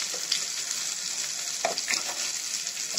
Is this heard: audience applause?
no